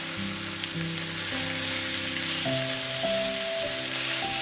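A halibut fillet sears in a hot pan with a continuous loud crackling sizzle, while a tonal melody plays quietly underneath. No voices.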